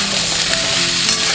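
Potatoes and banana stem fry with salt in hot oil, making a loud, dense, unbroken sizzle with faint stirring close by.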